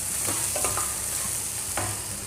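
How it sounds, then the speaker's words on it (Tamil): Potato bonda batter being mixed with salt, a close, wet stirring and squelching with a few soft scraping strokes over steady background hiss. "நல்லா கலந்து விடணும்"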